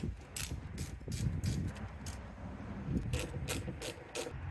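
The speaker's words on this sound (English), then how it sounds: "we're going to remove the bolts in the middle" A ratchet works valve cover bolts loose on a 1995 Mazda Miata, giving quiet bursts of rapid clicking in two short runs, close by, with faint rustling between.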